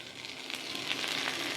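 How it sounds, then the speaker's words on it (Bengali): Potatoes and green chilies frying with onion in hot oil, giving a steady close sizzle that holds evenly throughout with no voices. "আলু মরিচটা একটু ভাজে নেব।"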